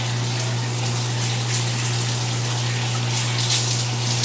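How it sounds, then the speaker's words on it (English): Continuous gushing water from a shower spray, steady and close, with a constant low hum underneath and no talking. "let me go ahead and rinse this with room temperature water"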